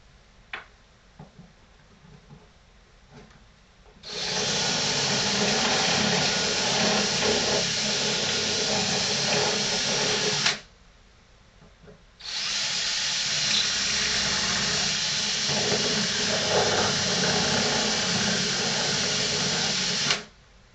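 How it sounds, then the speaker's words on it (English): A power drill drills out holes in a model plane build, running in two long, steady bursts of about six and eight seconds each, with a short pause between them, loud and close. "So what I'm going to go ahead and do is drill out these holes here."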